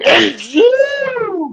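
A single sneeze bursts out at the start, close and loud, followed by a voice speaking with a rising, drawn-out tone.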